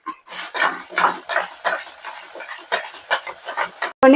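A spatula stirs and scrapes lentils, green chilies and spices frying in a pan for tamarind rice, making continuous rhythmic scraping and sizzling strokes. It is loud and close, with no talking, and ends on a sharp knock.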